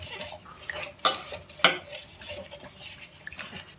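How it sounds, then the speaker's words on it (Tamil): A spoon stirs sugar and salt into water in a metal vessel while making parotta dough, with steady swirling scrapes broken by a couple of sharp clinks against the rim, close by and moderately loud. "இப்போ இந்த சர்க்கரை உப்பெல்லாம் போட்டு அந்த தண்ணியில் நல்லா கலந்துருங்க"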